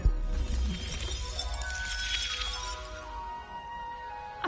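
Glass shards magically reassembling under a Reparo repair spell in the Hogwarts Legacy video game, an opening crack followed by a sustained shimmering, tinkling sweep that fades out, with no talking over it.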